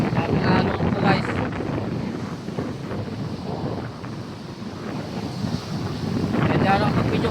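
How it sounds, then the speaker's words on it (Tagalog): Big sea waves slap and surge against a boat as strong wind buffets the microphone, a loud rolling wash that swells and eases throughout. "Grabe na alon ito guys."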